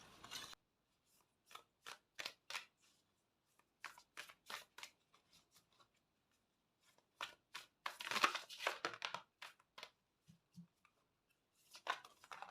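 Tarot cards being handled and shuffled in a tarot reading, heard as a run of short, close crisp flicks and soft rustling bursts with brief pauses between handfuls.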